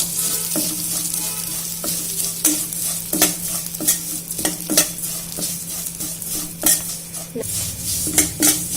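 Vermicelli roasting over a medium flame for shavige payasa, sizzling steadily while a spoon stirs and scrapes the pan in frequent sharp clinks, close and continuous.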